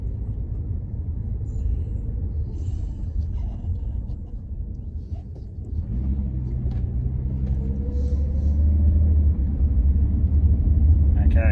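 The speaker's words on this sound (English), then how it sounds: "there's only transmission noise in first gear, which is quite normal until you hit second and then it goes away" Low, continuous drivetrain rumble with a rising whine from a Ford AU Falcon with a limited-slip differential pulling away in first gear, growing louder toward the end.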